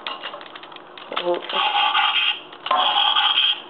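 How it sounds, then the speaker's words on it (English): Electronic transformation effect from a Transformers Revenge of the Fallen Leader Megatron toy: bursts of buzzy, warbling synthetic tones and whirring, played twice with a brief gap, close and fairly loud. "that's pretty much the transformation noise"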